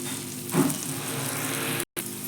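Spices sautéing in a pan with turmeric nearby, a continuous broadband sizzle at close range with a brief stirring bump early on and a momentary dropout near the end, no talking.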